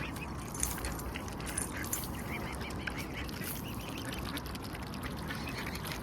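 Ducks recovering after rescue from an oil spill give scattered quacks over a dense, steady background din of shuffling and noise, all close by with no clear talk.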